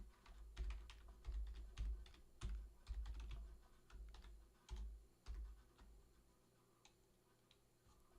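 Fast, uneven clicking of keys on a computer keyboard, typed in bursts with short pauses, fairly close and clear with no talking over it.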